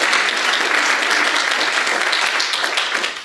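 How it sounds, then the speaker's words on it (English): A university lecture audience gives a loud, dense round of applause, many hands clapping steadily and close for the whole stretch before fading slightly at the end, with no speech over it. "please celebrate a little bit with a round of applause"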